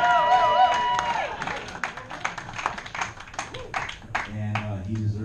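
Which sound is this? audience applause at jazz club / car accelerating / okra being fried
audience applause at jazz club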